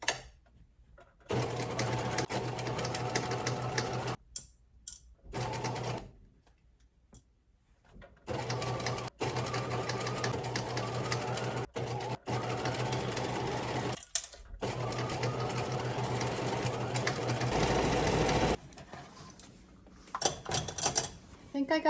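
A sewing machine stitches Goodwill curtains in long running bursts, stopping and restarting several times with brief pauses between seams, close and steady, with quieter handling between runs.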